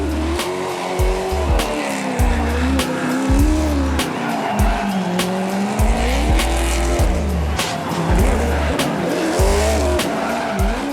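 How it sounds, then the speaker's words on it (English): A 470-horsepower Subaru Impreza race car makes a gymkhana run at Santa Pod, its engine revving hard with repeated loud tire squeals and skids, sharp gear changes and rising and falling engine pitch throughout. "Dmitry Shripny in his 470 horsepower Subaru Impreza went on to get the better of Block on this occasion."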